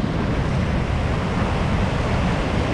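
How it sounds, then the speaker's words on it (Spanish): Ocean waves surge and wash steadily along a rocky shore in Sri Lanka, a loud, continuous rumbling surf with wind buffeting the microphone throughout. "vienen unas olas por aquí que dan miedo"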